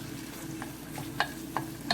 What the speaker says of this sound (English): mix the onion and garlic